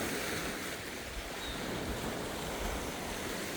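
Ocean waves wash steadily onto a tropical seashore in a continuous, loud roar of surf, with wind noise buffeting throughout and no voices.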